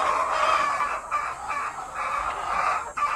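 Chickens cluck and squawk close by inside a chicken house, a busy overlapping chorus of short calls filling the few seconds without pause.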